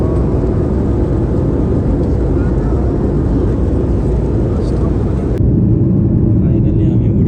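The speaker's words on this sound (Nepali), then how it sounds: "गाइस अब चाहिँ हामी उड्न लाग्यौँ" Passenger airliner taking off on an international flight from Nepal, heard from inside the cabin as a loud, steady broadband engine roar and rumble that holds throughout and shifts in tone near the end.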